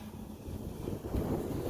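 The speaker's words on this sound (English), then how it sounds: "a little windy out here today" Wind blows outdoors beside a grill with a smoke tube, a steady broadband rush buffeting the microphone and swelling louder toward the end, with no voices.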